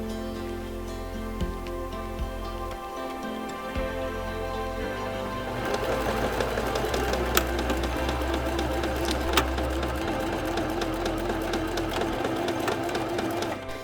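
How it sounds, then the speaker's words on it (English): Sewing machine running a long straight stay stitch along a curved yoke, on its longest stitch setting: a steady close mechanical whir and rapid needle clatter that grows louder and busier midway, continuous with no talking. "So I set my machine on the longest possible setting and just did a straight stitch."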